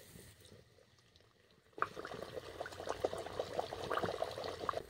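After a quiet start, a sudden sizzle breaks out as luchi drops into hot white oil in a kadai, continuing as a crackling, bubbling frying sound, faint and close.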